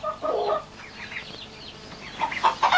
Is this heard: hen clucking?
yes